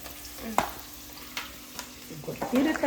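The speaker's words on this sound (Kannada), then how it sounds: "ಶುಂಠಿ ಬೆಳ್ಳುಳ್ಳಿ ಪೇಸ್ಟ್ ಹಾಕಿ ಒಂದು ಚಮಚ" Spoonful of homemade ginger garlic paste frying in a pan for veg fried rice: a quiet sizzle under a steady low hum, with a few sharp spatula scrapes and a busier burst of stirring at the end.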